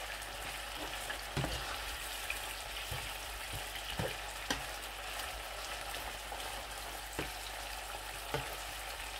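Chicken pieces mixed with garlic paste fry on a hot tawa with a soft, continuous sizzle. Scattered sharp clicks and scrapes from stirring punctuate it, with no talk.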